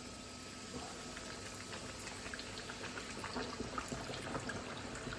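Chicken for a hot buffalo honey chicken sandwich dropped into hot oil, giving a steady dense bubbling and frying hiss that holds evenly and swells slightly toward the end, with no voices.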